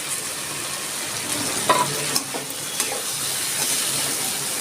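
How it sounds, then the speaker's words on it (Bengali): Fried moong dal with turmeric and spices is sautéed in a pan, producing a steady broadband sizzle with a few faint stirring knocks, close and continuous. "মশলার সাথে আরেকটু ভেজে নেব"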